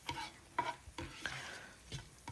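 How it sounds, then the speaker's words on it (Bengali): Cumin seeds and two dried red chillies fry in a pan over low heat, with a soft sizzle broken by several distinct stirring scrapes at a steady pace, close and clear. "দুটো শুকনো লঙ্কা দিয়ে ভালো করে ভেজে নিলাম, যাতে একটা গন্ধ চলে আসে"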